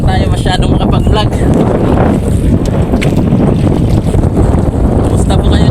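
Strong wind buffets the microphone aboard a boat at sea, a loud continuous roar with gusty rumble, while someone talks over it throughout.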